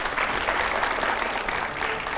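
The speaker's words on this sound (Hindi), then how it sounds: "ऑडियंस जरा जोरदार तालियां" Studio audience at a televised political interview breaks into brisk, full applause, a dense wash of clapping that holds steady for a couple of seconds.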